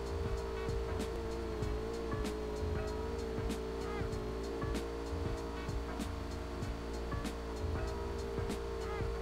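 A vehicle drives in the AWM shooter game, its steady engine drone holding throughout with sharp clicks and taps scattered over it and no voices.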